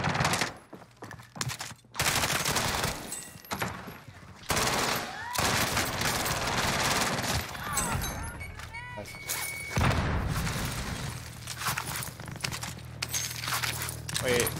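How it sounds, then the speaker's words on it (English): Heavy gunfire rattles in dense repeated bursts at a helicopter during a Call of Duty Warzone match, loud and close, with excited voices talking over parts of the shooting. "Oh, they're shooting the heli."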